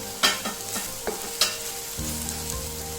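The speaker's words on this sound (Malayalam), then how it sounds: "ഇതെല്ലാം കൂടി ഇട്ട് പച്ചമണം പോകുന്ന വരെ ഇളക്കണം" Ground turmeric, chili, coriander, garam masala and black pepper are stirred and fried in a pan over a low flame for an egg curry, giving a soft steady sizzle broken by several close, distinct scraping stirs.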